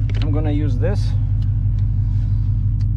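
A 2018 Dodge Challenger 6.4L ScatPack with BBK long tube headers idles, heard from inside the cabin as a constant deep, loud rumble, with a voice talking briefly at the start.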